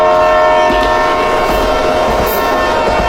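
A cartoon train roars past, a loud, continuous rumble with a steady sustained horn-like tone throughout, close and unbroken, with no voices.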